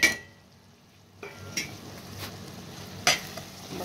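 Cumin, Kashmiri red chilli, garam masala, turmeric and salt cooking with tomatoes in a pan for dal makhani: a low steady sizzle broken by several sharp spoon scrapes and clinks against the pan, close by, with no talking.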